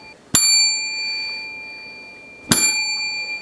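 Two bright notification bell dings, each a sharp metallic strike ringing out with a clear sustained tone, the second about two seconds after the first, alone and close.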